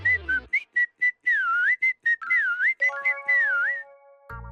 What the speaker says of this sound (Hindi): चाचा जी, ये सीटी बजाने का वक्त नहीं है।